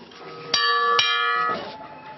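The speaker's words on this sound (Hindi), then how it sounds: "यहाँ घंटी बजती है" A school bell rung for class gives two sharp metallic strikes close together, then a softer third, each leaving a bright ringing tone that fades slowly in a quiet room.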